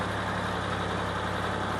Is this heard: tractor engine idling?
yes